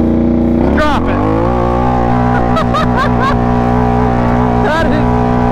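A four-wheeler ATV in four-wheel drive revs hard, its loud close engine drone rising and holding steady while voices speak over it.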